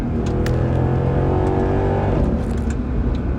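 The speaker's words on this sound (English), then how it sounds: "enjoy some sounds of the car I'm lucky enough to be driving right now. The W204 C63 507" A Mercedes-AMG W204 C63 507 with its V8 engine revs hard and steadily, a loud, deep, continuous roar with rising and falling pitch, close by and with no one speaking.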